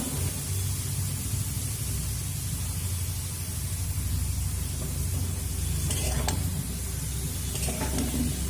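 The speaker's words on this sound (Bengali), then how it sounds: "এবার এখানে আমি যে ওলকপি কেটে রেখেছি সেই ওলকপিগুলো দিয়ে দেব আর দিয়ে দেব পরিমাণ মতো লবণ" Kohlrabi pieces and salt go into a hot frying pan and are stirred, giving a steady, close sizzle with hissing noise throughout and some scraping near the end.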